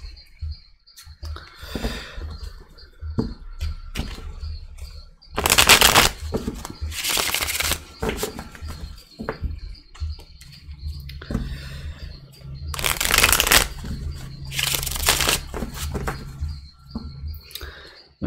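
Tarot cards are shuffled and dealt for a monthly reading, giving soft papery riffles and slaps broken by two louder bursts of shuffling, with brief quiet gaps between.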